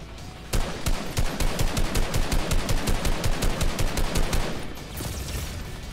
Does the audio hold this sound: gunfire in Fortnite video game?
yes